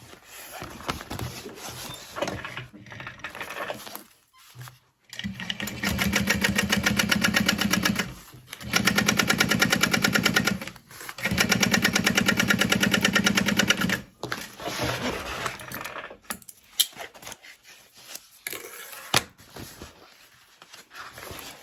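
A sewing machine stitches across the top edge of an interfaced backpack panel in long steady motorized runs, loud and close, separated by pauses with handling noises between bursts.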